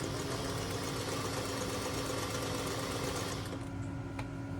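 A sewing machine runs a zigzag stitch along the raw edge of pants being cut into shorts, a continuous close motor whir with a rapid needle chatter that slows and quiets near the end.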